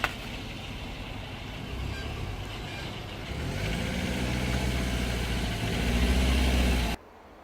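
A Nissan Cima with a 4.5 V8 drives past with a smooth engine drone that climbs in two steps as it accelerates, then cuts off abruptly near the end.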